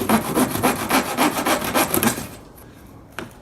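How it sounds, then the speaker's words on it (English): A hand saw cuts through thin 3.5mm plywood backing sheet, with rapid rhythmic rasping strokes close up for about two seconds, then stopping, with a single faint knock after. "Now it's time to saw the back sheet, to cut out the back sheet here to make it the same size as the panel."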